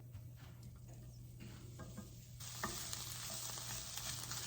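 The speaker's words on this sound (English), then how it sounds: "I am going to add the sausage to the pan." Sausage heating through in a frying pan with cooked onions, a faint sizzle that grows louder partway through, with a few light stirring scrapes.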